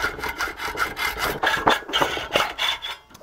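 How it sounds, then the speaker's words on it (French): Hand sawing or rasping through metal screws clamped in a loosely fixed bench vise, a steady back-and-forth cutting rasp with regular strokes, close and fairly loud, with no talking. "On va déjà venir couper toutes les vis."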